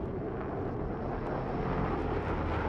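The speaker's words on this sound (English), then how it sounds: "Hey, get that chopper." Helicopter rotor and engine noise in a multiplayer video game match, a steady loud broadband drone holding throughout with no talk over it.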